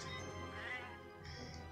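Cartoon cats meow and caterwaul as they die in the video game Kitten Squad, a short, clear cluster of game meows over a steady backdrop of game music.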